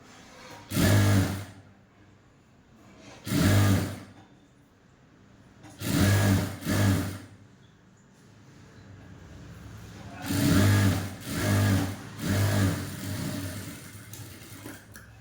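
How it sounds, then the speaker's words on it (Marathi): A sewing machine stitches a folded 1.5-inch fabric strip for a katori blouse neckline in several short bursts, each a second or less, separated by pauses of quiet handling, close and moderately loud. "आता आपल्याला इथून एक शिलाई मारून घ्यायची आहे."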